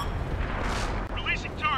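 A tank cannon firing in World of Tanks: a heavy, muffled boom over a dense rumble of engine and battle noise, with a voice speaking briefly near the end.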